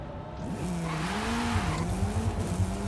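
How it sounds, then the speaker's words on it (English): The engine of a Lamborghini Centenario race car in a racing video game revs steadily with a shifting pitch, joined by tire noise, and stays loud and close for about three seconds. "The Lamborghini Centenario is leaving early, so they will have to slow down."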